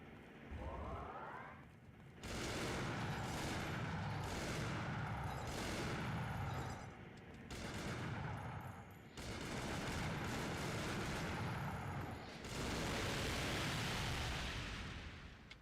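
Gunfire aimed at the player in a video game, with loud, dense bursts of rapid automatic shooting that continue almost nonstop and break only briefly between volleys.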